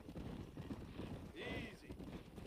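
Horses moving in the Western video game Red Dead Redemption, a busy jumble of hoof clatter and animal noise, with a brief whinny-like tonal cry midway, all under game ambience.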